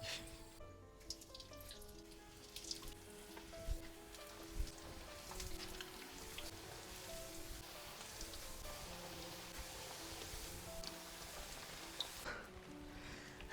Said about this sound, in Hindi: जिस हिसाब से बारिश लगी हुई है, सुबह से बिल्कुल बंद होने का नाम नहीं ले रही है